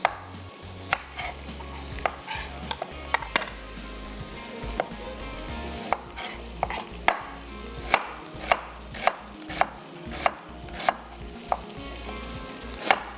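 An onion is cut into fine julienne for a salad in a busy kitchen, a knife tapping a board in a steady rhythm of crisp strokes over a low sizzling background, with no voices.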